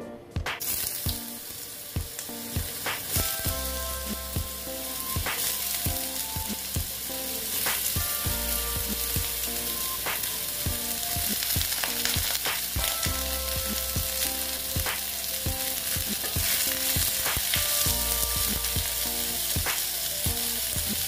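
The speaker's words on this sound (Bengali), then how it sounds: "দেখো ভেজে নিচ্ছি। একটু হলুদ দিয়ে দিলাম, দিয়ে ঝিঙেগুলোকে ভালো মতন আমি ভেজে" Ridge gourd pieces frying in hot oil with a little turmeric. A loud, steady sizzle is heard up close and continues throughout, with occasional stirring clinks and no talking.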